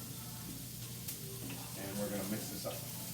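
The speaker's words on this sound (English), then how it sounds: "And if you can hear that sizzle" Garlic and beans fry in a pan with a steady, quiet sizzle and crackle, with occasional stirring clinks, heard from close by.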